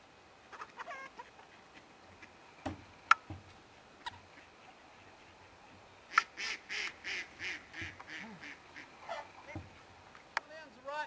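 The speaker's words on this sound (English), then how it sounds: "There's the ducks waiting." Ducks in a poultry house quacking in a run of repeated calls over the second half, close by, after scattered footsteps and handling noises with a little speech earlier.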